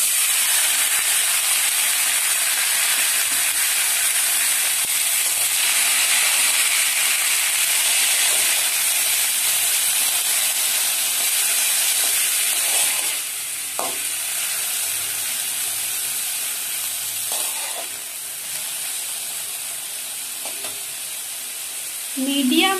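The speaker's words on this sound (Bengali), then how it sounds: "মিডিয়াম আঁচে চিচিঙ্গাগুলো 10 মিনিটের জন্য ভেজে নেব" Snake gourd (chichinga) frying with ginger in a pan over medium heat, giving a steady close broadband sizzle and hiss throughout, with a few brief stirring clinks and scrapes near the end.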